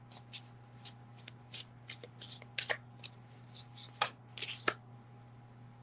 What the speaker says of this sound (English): Let me draw a card for you.